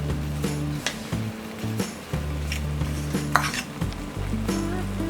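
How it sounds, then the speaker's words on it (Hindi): A spoon scrapes and clinks against a pan while a milk and powdered sugar mixture is stirred over a low flame, with steady low hum beneath and repeated short metallic taps, no voices. "इसे कंटिन्यूस स्टर करेंगे लो फ्लेम पर"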